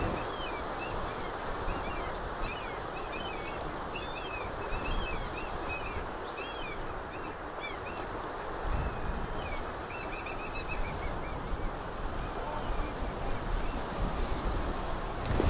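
Wind blows steadily at the coast of Chiloé island in Chile, a broad rushing roar with surf-like swells and faint bird chirps above it.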